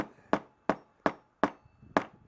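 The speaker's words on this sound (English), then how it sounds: "I have this little tiny ball peen hammer, and I'll just tap this a little bit" A tiny ball peen hammer taps the metal pump cap of a Coleman 508 stove five times in a slow, even rhythm, each strike a sharp close-up tick that decays quickly into near silence.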